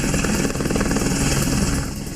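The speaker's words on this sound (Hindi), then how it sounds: "आसमान में अपाचे हेलीकॉप्टर की गर्जना है" Military helicopters, including Apache, Mi and Rudra types, flying over a Republic Day parade, a loud close rotor roar with rapid thudding blade beats that fades slightly at the end.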